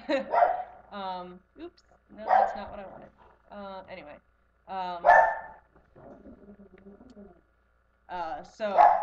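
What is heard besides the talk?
dog barking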